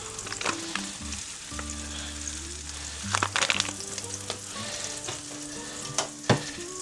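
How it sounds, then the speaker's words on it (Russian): Sausage sizzles and fries in a pan with bay leaf, allspice and Polish seasoning mix, a steady crackling hiss with occasional stirring clatter, close and continuous with no talk. "Дадим еще пару минуток здесь пережариться"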